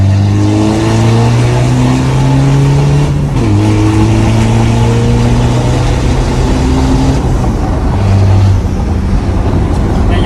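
Old car engine with a remapped ECU revved hard under full throttle: a loud, close, sustained drone that climbs in pitch, dips briefly and climbs again, with a voice talking faintly underneath.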